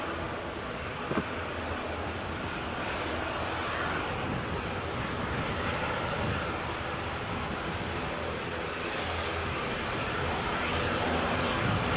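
Logan Air airplane taxiing at Edinburgh Airport, a steady distant engine whine and broad rumble held evenly for the whole stretch with one faint click early on, no talk.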